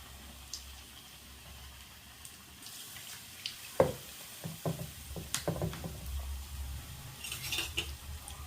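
Batter-coated chili bajji dropped into well-heated oil, a quiet bubbling fry broken by scattered clinks and scrapes from handling nearby, with no talking.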